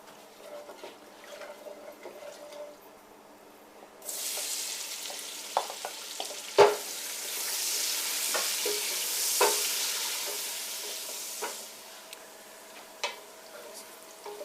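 Finely sliced onions hit a hot pan for a Nilgiri chicken curry, bursting into a loud, steady hiss of frying after a quiet start, with occasional sharp clicks and stirring knocks close by and no talking.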